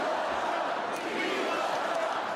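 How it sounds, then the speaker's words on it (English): Convention crowd chanting in unison, echoing the bandaged former president's words, a dense, steady roar of many voices filling a large hall with no break. "The crowd echoing his words from the aftermath of this weekend's shooting"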